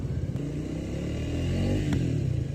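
A Triumph motorcycle out on the road under its rider, the engine holding a low, steady rumble with a faint rise in revs, accompanied by wind noise and a couple of brief clicks.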